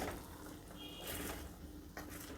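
Water is poured steadily into a simmering potato gravy to thin it, making a continuous soft splashing wash that runs close throughout the short moment, with no voices.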